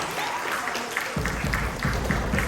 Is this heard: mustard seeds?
no